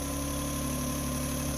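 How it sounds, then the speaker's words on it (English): A hot hatch car engine idles steadily and close by, a constant low hum with an even buzzing vibration and no change across the whole stretch, with no voices. "Just sitting here idling."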